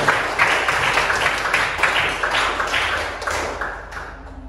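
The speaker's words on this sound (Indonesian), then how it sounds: "tepuk tangan untuk kelompok 2" Applause for a presenting group in a classroom: a few seconds of dense, steady clapping from the class that tapers off toward the end.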